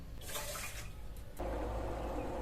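Water poured from a bowl onto sugar in a pan to make syrup for Puri khaja: a steady splashing pour that thickens and gets louder partway through, close by and with no talk.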